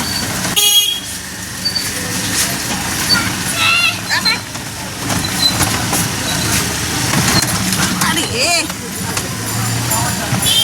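Riding an electric auto-rickshaw (toto) along a rough, potholed road, with rattling and bumping, passing traffic and occasional horn toots, while people talk throughout.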